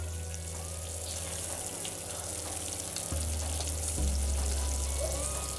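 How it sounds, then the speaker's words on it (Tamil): Sugar syrup for boondi ladoo boils hard in a pan on high flame, giving a continuous close bubbling hiss with small pops and a low steady rumble. "பாகு நல்லா கொதிக்குது."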